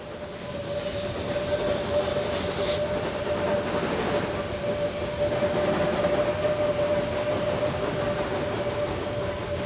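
A narrow-gauge train on the Selketalbahn in the Harz rolls along the rails at about 30 km/h with a steady rumbling clatter and a faint sustained whine, continuous and moderately close throughout.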